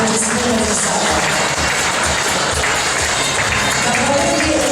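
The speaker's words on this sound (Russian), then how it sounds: "мы поддерживаем всех бурными аплодисментами в зале" Sustained applause from an audience in a school event hall at a Komi Republic student invention awards ceremony, a dense steady wash of clapping with crowd murmur throughout.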